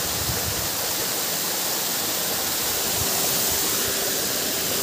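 A waterfall at Panggulayan roars steadily nearby as a dense, even hiss of rushing water that holds constant with no talking.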